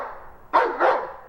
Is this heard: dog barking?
yes